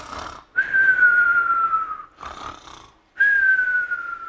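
A voice mimics snoring: two long wheezing, whistling breaths, each followed by a snorting inhale, with a brief gap between them.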